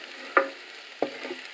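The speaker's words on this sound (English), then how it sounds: "Getting a nice caramelization on the carrots and onion." Carrots and onion frying and being stirred in a Teflon pan, with two sharp scraping strokes of a utensil over a soft steady sizzle, close and moderately quiet.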